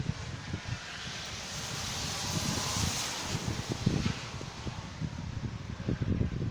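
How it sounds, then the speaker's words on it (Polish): Strong wind rushes and gusts across the microphone, a broad roaring noise that swells and rumbles throughout. "za chwilę będzie znowu wiało. O, wieje."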